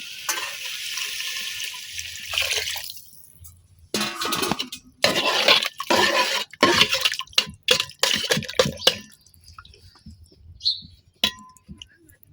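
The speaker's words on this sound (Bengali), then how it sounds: "এখন আমি পরিমাণ মতো ঝোল দিয়ে দেম" Broth is poured into a pan of frying potato curry, starting with a loud hissing sizzle that gives way to splashing liquid and clinking utensils, close to the pan, with no talking.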